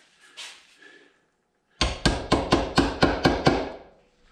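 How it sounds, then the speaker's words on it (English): Seven sharp, evenly spaced hammer blows ring out on brass after a brief pause, each strike loud and close. "What happens if I hit with a regular hammer?"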